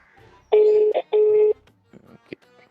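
Phone dialing tones ring out as a call is placed: two long, loud keypad beeps in close succession, then a few faint clicks and a short blip, alone with no talk.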